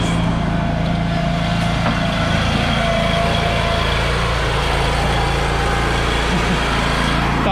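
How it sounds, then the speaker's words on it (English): Walker R21 or B23i compact lawn mower running steadily nearby, a continuous engine drone with a steady hum throughout and no pauses. "Man, what a cool little mower."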